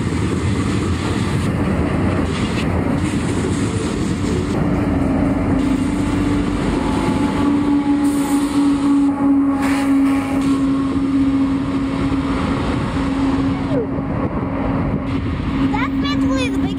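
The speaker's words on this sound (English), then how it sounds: "Biggest train you've ever seen." A westbound Union Pacific mixed freight train rumbles past loudly and continuously in San Timoteo Canyon, wheels grinding and rattling on the rails with a sustained metallic whine, while people talk faintly underneath.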